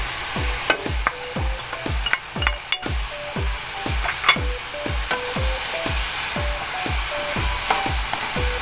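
Tofu sizzles and fries steadily in a pan while a utensil stirs it in a quick, regular rhythm of scraping strokes, close and clear with no talking.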